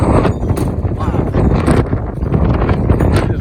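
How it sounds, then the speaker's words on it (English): Wind at an outdoor swap meet buffeting the microphone, loud rough gusty rumble throughout, with faint voices mixed in. "It's windy here."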